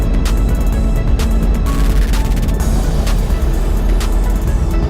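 A McLaren sports car on Thunderhill Raceway's track gives a loud, steady engine and road roar from on board, with wind noise and faint repeated clicks over the constant drone.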